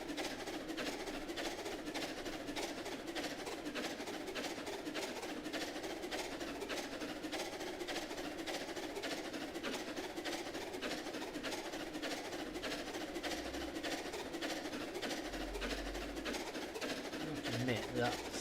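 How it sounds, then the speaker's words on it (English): A steam train on a narrow-gauge-style railway in a Roblox game runs with a steady, continuous rumble and rhythmic clatter throughout, with a hissing steam noise layered over it and a few low thumps near the end. "That steam noise is getting a bit annoying now."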